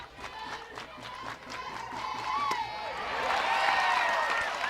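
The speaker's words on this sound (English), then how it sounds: "Great to hear the noise of the crowd again." Crowd noise at a softball Super Regional stadium, Washington vs Oklahoma, with scattered claps and cheers that swell into a louder roar, a commentator talking over it.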